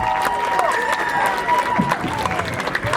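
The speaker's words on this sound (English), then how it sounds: "one more big round of applause for Cheryl" Audience applause for a woman just shot in a Taser demonstration, a steady wash of clapping with crowd noise, mixed with voices and some cheering throughout.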